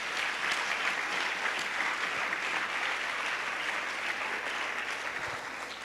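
Steady, dense applause from a church congregation during a sermon, sustained evenly for several seconds with no talking over it.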